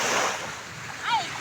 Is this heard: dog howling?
no